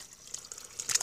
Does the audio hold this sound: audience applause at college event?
no